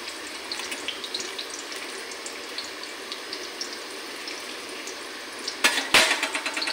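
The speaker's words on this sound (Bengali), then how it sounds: "এখন পেঁয়াজ আর কুচি কুচি করে কেটে রেখেছি ওগুলো দিয়ে দেব।" Chopped onions frying in hot oil in a kadai, a steady soft sizzle running throughout, with a couple of sharper louder bursts near the end.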